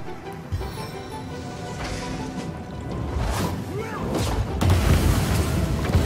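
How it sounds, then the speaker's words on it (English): Rumbling booms and bursts of explosions in Divinity: Original Sin roll on continuously, growing louder and denser toward the end. "Explosions for everyone!"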